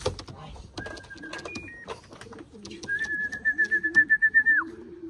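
Racing pigeons arriving at the loft, with soft cooing and wing-flutter amid a voice, sharp whistles and a rapid pulsing burst near the end.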